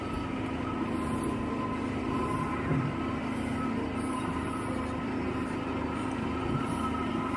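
A DC motor runs steadily under armature resistance speed control, with added resistance slowing it to about 1566 rpm; a constant hum with a sustained tonal whine holds evenly throughout, with no talk.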